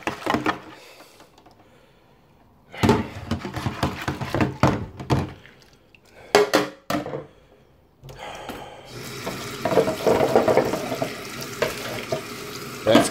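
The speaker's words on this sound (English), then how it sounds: "I'm going to do all this washing up first." Running water splashes steadily over hot tub filter parts and a cap being rinsed in a sink, with intermittent bursts, clunks of handled plastic, and a longer continuous flow near the end.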